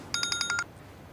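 A telephone rings nearby with a bright electronic trill of about six quick, evenly spaced pulses. Quiet follows as the ringing stops.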